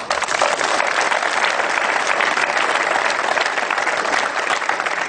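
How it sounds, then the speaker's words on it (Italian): Audience applause at a political closing rally, a loud, dense, unbroken roar of many hands clapping for about five seconds. "a cui va rivolto un applauso"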